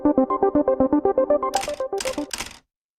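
An online quiz game's spin wheel ticks in a rapid, evenly spaced series of bright electronic clicks, slowing toward the end with a few chime-like hits before stopping abruptly.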